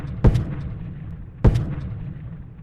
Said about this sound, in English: He calls up his artillery and starts bombarding the rebel positions.